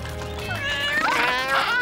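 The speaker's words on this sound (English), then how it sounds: "fish-loving kitties" Several high, wavering meows overlap in quick succession, sounding like a few cartoon cats crying at once over a low hum, from a PAW Patrol cartoon.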